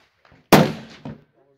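Single sharp rifle shot from a Savage Axis 30-06 firing 168 grain TTSX loaded with IMR 4064 powder at a range, a loud crack with a short decaying tail and a second fainter echo, after faint murmuring.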